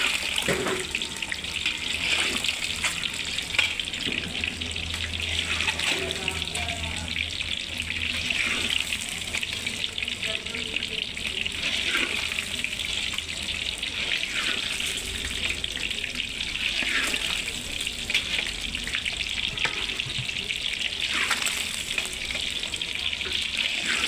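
Eggs fry in a pan with a steady hiss and crackle that runs unbroken and fairly loud, with faint clinks now and then.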